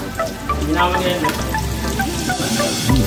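Ginger sizzling in a hot pan as it browns, the start of a Filipino mussel tinola, a steady close frying hiss with faint stirring under people talking.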